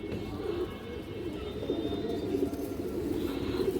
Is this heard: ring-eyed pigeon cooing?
yes